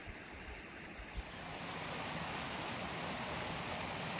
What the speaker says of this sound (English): Little waterfalls on the way up the canyon.